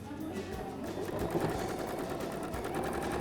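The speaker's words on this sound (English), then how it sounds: "So I'm top stitching on the lining, and I do a teeny tiny back stitch on the other side too." A sewing machine runs steadily while top stitching a cap lining, a continuous close mechanical whir and rapid needle clatter throughout with no pauses.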